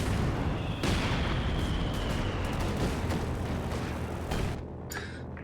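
Artillery barrage in a strategy game, a sustained roar of overlapping explosions and heavy thuds, loud and relentless before easing off near the end.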